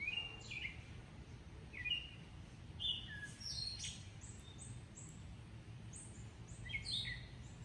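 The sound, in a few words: birds singing outdoors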